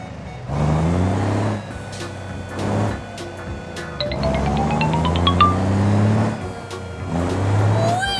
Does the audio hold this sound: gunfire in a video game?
no